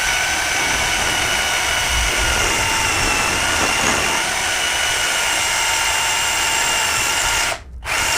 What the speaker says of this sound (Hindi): अब हम इससे वॉल पे ड्रिल करते हैं।